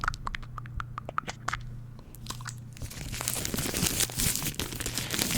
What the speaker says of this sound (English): Here's some paper sounds